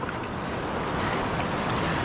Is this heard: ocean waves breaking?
yes